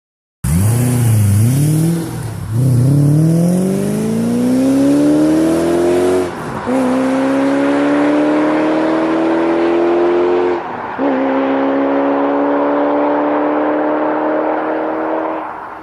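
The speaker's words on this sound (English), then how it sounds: "I love the sound of a V8." A powerful V8 engine in a BMW E36 M3 revs up through rising gear shifts, loud and close, its deep roar climbing in pitch with brief breaks between gears.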